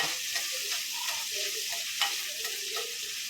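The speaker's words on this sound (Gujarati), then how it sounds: "અડધું ટમેટું નાખ્યું અને લીમડો નાખશું સારી રીતે હલાવશું ટમેટાને પાકવા દઈશું" Tomato and curry leaves sizzle and fry in a pan for yellow moong dal, with a steady close hiss and soft scraping stirring strokes.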